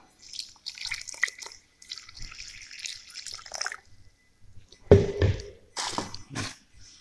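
Water trickles and splashes into a mixing bowl holding butter, vanilla and egg for cinnamon roll dough, in a few short bursts, then a louder, fuller pour with splashing near the end; quiet and close.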